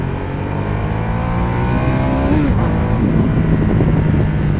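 A 2015 Ducati Diavel Carbon's big V-twin motorcycle engine revving hard and loud, its pitch climbing and swinging through one sustained run up near the microphone.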